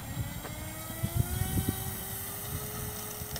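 FT Tiny Trainer model airplane in flight, a thin buzzing electric motor whine drifting gradually in pitch, moderately distant, with a few soft thumps and wind noise.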